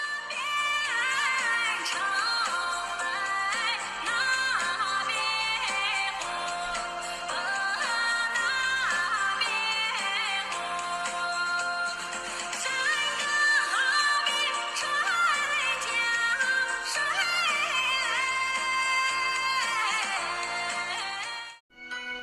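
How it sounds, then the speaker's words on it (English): Famous traditional folk song from Nanning, a melodic vocal or instrumental line with bright tonal phrases over steady accompaniment, playing continuously at moderate level with no talk. "What you are hearing now is one of the most famous local traditional folk songs."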